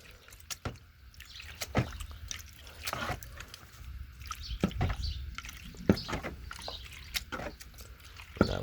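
Paydirt is swirled and washed in a gold pan of water, with close sloshing, dripping and gravel rattling in uneven bursts, and no talking.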